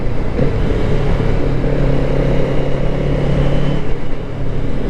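A Kawasaki Z650RS motorcycle with a 650 engine is being ridden, giving a steady, loud, humming engine drone with wind rush and a slight rise in pitch partway through.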